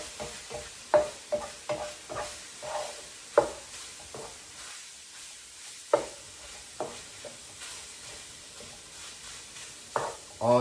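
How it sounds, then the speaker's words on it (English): Onions, mushrooms and garlic stirred in a pan: a series of sharp utensil scrapes and clacks at uneven intervals over a soft, low sizzle, close and fairly loud, with no voices. "Mix this around, get everything incorporated."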